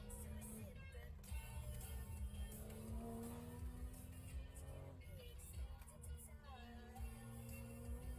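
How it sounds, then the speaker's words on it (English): Race car engine in the iRacing video game holding a steady, droning pitch under throttle through a corner, with a faint rise and tire noise, heard continuously at low level. "Like you hear how he's on throttle, like maintaining like the momentum through the corner to keep pressure on the rear of the car."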